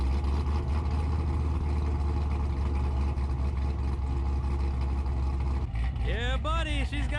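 A modified Chevrolet Corvette C7 Grand Sport V8 with Borla exhaust, long-tube headers and a cam idles loudly and steadily up close, and near the end a person's excited voice rises over the rumble.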